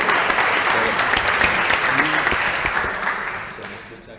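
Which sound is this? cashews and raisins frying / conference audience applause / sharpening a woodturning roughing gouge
conference audience applause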